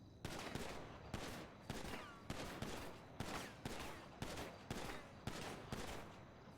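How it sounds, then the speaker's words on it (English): Video game gunfire from GTA V on NoPixel, fired at a target: a steady series of loud, reverberant shots at roughly even intervals, each one ringing out before the next, with no talking. "Just fire some shots, center mass."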